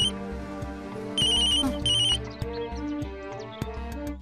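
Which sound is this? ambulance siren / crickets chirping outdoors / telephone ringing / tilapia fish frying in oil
telephone ringing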